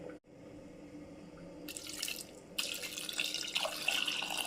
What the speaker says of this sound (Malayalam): ആവശ്യത്തിന് വെള്ളം ഒഴിച്ചു കൊടുത്തു